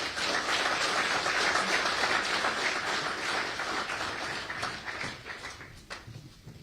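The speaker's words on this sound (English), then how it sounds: "let's give him a big round of applause, ladies and gentlemen" Audience applause fills a hall at an annual mining conference, sustained and dense for several seconds before gradually thinning out toward the end.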